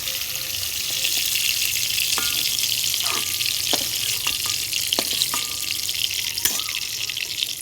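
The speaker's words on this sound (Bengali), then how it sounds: "চিংড়ি মাছ আমার ভাজা হয়ে গেছে" Prawns sizzle steadily in hot oil in a home kitchen, a continuous close fry with occasional sharp clicks and taps of a utensil against the pan.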